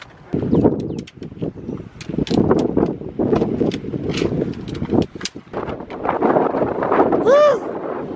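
Gusty wind buffets the microphone in uneven bursts on a mountain hike in Guadalupe Mountains National Park, Texas, with clattering sounds in between and a rising whoop of a voice near the end.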